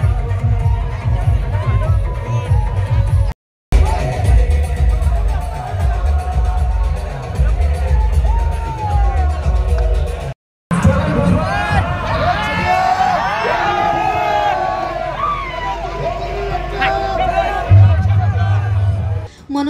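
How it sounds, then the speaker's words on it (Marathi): Maratha men, women and youths celebrate a victory in Khopoli after paying tribute to a statue of Chhatrapati Shivaji Maharaj: a dense, loud crowd roars, shouts and whoops continuously, with short cuts and chanting voices rising near the end. "खोपोली शहरातही मराठा बांधव, महिला आणि तरुणांनी छत्रपती शिवाजी महाराजांच्या पुतळ्याला अभिवादन करत जोरदार जल्लोष केला."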